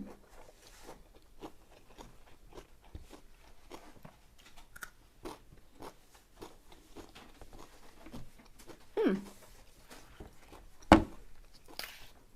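Crunchy baby carrots being eaten up close, with quiet, irregular bites and chewing crunches, plus two louder snaps near the end, against a hushed background.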